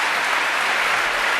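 Steady, dense applause from a television studio audience greeting a guest's arrival, loud and continuous throughout with no voices rising above it.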